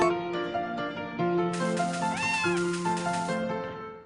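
Cat meowing in Harvest Moon: A Wonderful Life, a drawn-out meow rising over continuous game music.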